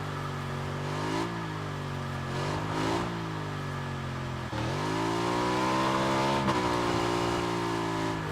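A motorbike engine in the video game PUBG revs and shifts continuously, its pitch rising and falling in repeated swells, loud and close, with no talk over it.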